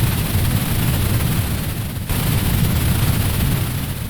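A synthesized rocket launch effect built in Arturia Pigments 4: a steady, loud, broadband roar with heavy low rumble that holds for about four seconds, cutting out briefly around the middle before resuming.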